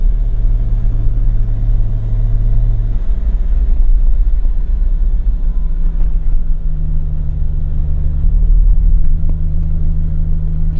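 Loud, deep engine rumble of a BMW E34 M5 on the move, steady throughout with a low drone that shifts pitch slightly partway.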